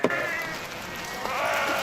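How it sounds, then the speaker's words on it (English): Sound effect from an audio play: a flock of sheep bleats continuously on a road, a dense overlapping wash of bleating with no pause. "Sheep all over the road."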